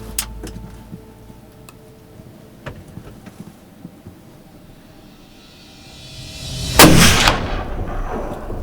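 A single hunting rifle shot fired at a whitetail deer in Iowa, a loud sharp outdoor blast with a rolling tail, preceded by faint ticks and quiet field ambience.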